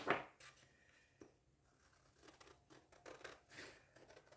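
Scissors snip through paper to cut out a compass-drawn circle for a cone, a quiet run of short, uneven cuts and crinkles with no talking.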